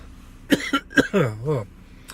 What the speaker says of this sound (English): didn't say I was completely over the cough.